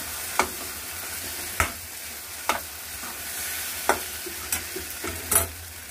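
Chopped cashews and raisins are stirred into a frying mixture, a low steady sizzle punctuated by about seven crisp spoon scrapes against the pan at irregular intervals.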